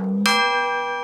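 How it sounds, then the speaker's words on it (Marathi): A hand bell in a Marathi comedy sketch set around a temple aarti is struck once, giving a bright, close metallic clang whose ringing tone sustains and slowly fades. "काय घंटी वाजाडतो रे?"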